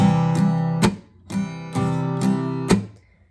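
Guitar strums the pattern of a song in a choppy down, up, stop, up rhythm, strings palm-damped between strokes so chords cut off sharply, played alone up close.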